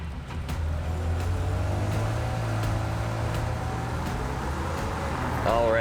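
A 2020 Chevy Blazer RS cruising around town, a steady low engine and road hum heard from inside the cabin, with a few faint clicks and a brief squeaky sound near the end.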